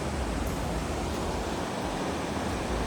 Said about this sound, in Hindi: नदी के दूसरी तरफ का व्यू आप ये देखो, पहाड़ों से पानी आ रहा है